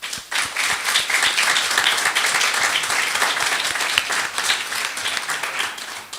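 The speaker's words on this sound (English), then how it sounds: "So a big round of applause for Joy." Wedding guests give a round of applause after a speech, dense sustained clapping that starts abruptly, stays strong and even, and carries on for several seconds without talk.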